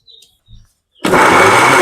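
After a second of near silence with faint chirps, a mixer grinder grinding tomatoes bursts into a loud, steady whirring roar close by.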